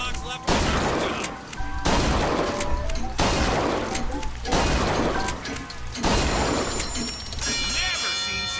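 Gunfire at a shooting gallery in BioShock Infinite, with rapid bursts of loud, close shots in several long volleys separated by brief pauses, and voices and game sounds mixed in.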